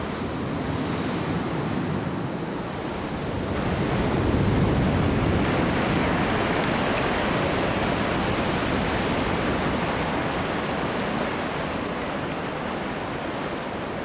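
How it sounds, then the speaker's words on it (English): Heavy surf pounds a rocky coastline in a continuous roar of breaking waves, loud and close, swelling slightly midway with steady wash and some wind, no voices. "The surf sets a pounding rhythm along rocky coastlines."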